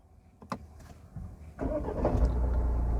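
A Tata Harrier Dark Edition SUV turning over and firing up, a short crank after a few clicks and thumps, then the engine settling into a steady, fairly loud idle up close.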